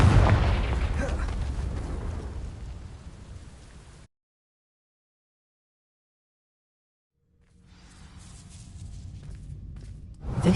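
An explosive Confringo spell goes off in Hogwarts Legacy, a loud crackling, rumbling blast that fades out into silence, followed by another rising burst of noise.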